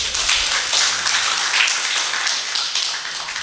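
A crowd claps steadily at an Eid gathering of GP Ansor members, a dense, continuous patter of many hands that stays loud and even throughout with no voices over it.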